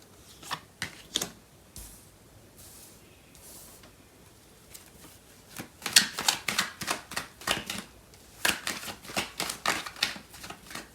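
Tarot cards shuffled by hand, close and fairly quiet: soft riffles and slaps come in bursts, sparse at first and then a steady run of rhythmic flicks in the second half.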